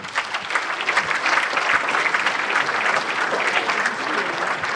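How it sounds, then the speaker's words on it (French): A crowd at the 2025 New Year's greetings ceremony in the town of Lattes applauds Kléber Mesquida, with steady, full-room clapping that stays even and sustained from start to finish. "je vous demande d'applaudir Kléber Mesquida"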